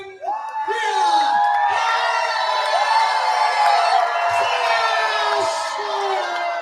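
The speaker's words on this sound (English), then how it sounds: "And you hear that Nanaimo crowd firmly behind our VIPW champion." Loud crowd at an independent wrestling show in Nanaimo cheering, whooping and shouting for the women's champion, a sustained roar with high yelling voices throughout.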